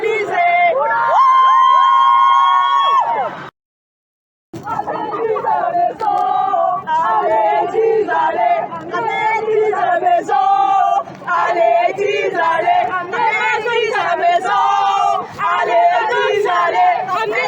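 Concert crowd at a show in Paris shouting, cheering and chanting together, a loud, dense, continuous roar of many voices with a brief drop to silence partway through.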